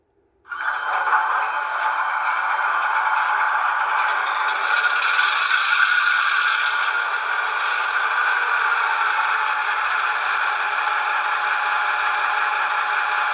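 A Broadway Limited HO scale EMD F9A model locomotive, Aberdeen Carolina & Western 271, starts its sound unit: after a brief silence a steady, droning diesel rumble kicks in suddenly and holds evenly at close range.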